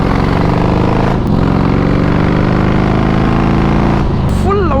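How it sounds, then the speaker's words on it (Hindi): A loud superbike engine roars steadily throughout while riding, dense and unbroken, with a brief dip near one second and a shift in pitch near the end. "फुल लाउड बाइक है ये।"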